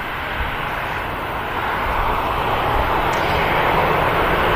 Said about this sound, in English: And a Ryanair out of that quad of aircraft that was waiting to depart.